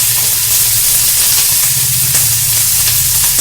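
Fennel seeds sizzle in hot oil while a spiced egg curry is cooked, giving a loud, steady hiss with a faint low hum underneath that runs unbroken throughout.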